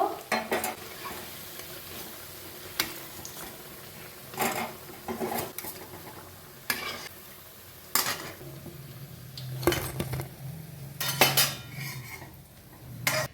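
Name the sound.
spring onion pakoras frying in hot oil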